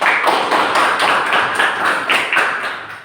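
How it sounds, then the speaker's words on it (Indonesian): Students in a classroom clap together in a quick burst of applause. The claps are close and overlap in an uneven patter for about three seconds, fading slightly at the end. "Aplaus untuk diri kalian."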